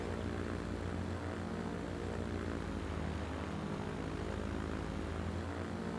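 Propeller airplane flying in the transport simulation game Transport Fever 2, a steady loud engine drone with a rhythmic prop buzz that holds evenly throughout, with no talk over it.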